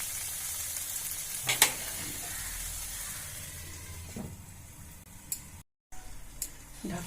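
Dal with green chillies and Kashmiri chilli sizzles steadily in a pan, a continuous close frying hiss broken by a few brief stirring scrapes.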